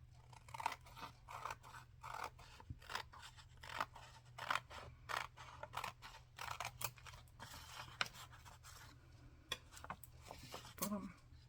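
Scissors cut a picture out of paper for a handmade retro cooking journal, a steady series of close, crisp snips repeating throughout over a low hum.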